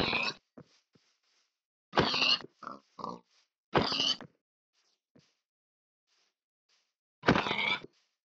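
Video game pig grunts and oinks in short separate bursts with silent gaps between them, close and clear, with a few fainter snorts in between.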